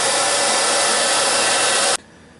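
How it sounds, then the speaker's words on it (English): A hair dryer blows loudly and steadily into an iced-up ice maker, a constant broadband whoosh that cuts off abruptly near the end. "So I'm going to put the hair dryer right in that hole for a few minutes."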